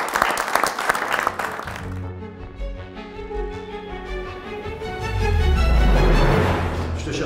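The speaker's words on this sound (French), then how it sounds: "On peut vous applaudir, je crois." An audience applauds after a panel defense before a jury, a couple of seconds of dense, close clapping that gives way to people talking and a low rumble.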